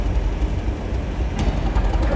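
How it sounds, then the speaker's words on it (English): A train rolls along railway tracks in London, giving a steady, loud low rumble with faint rail rattle, close by and with no talk over it. "And this train is going on the back of that one."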